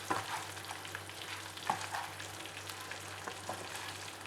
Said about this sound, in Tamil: மசாலா பணியாரத்தை கோட் பண்ணுற மாதிரி நல்லா கலந்து விட்டுக்கோங்க